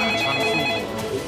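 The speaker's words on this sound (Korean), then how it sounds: "2008년 5월 제주도의 한 경찰서에 걸려온 한 통의 전화." A telephone rings at a police station on Jeju Island, a steady, fairly loud electronic ringing tone heard alone without talk.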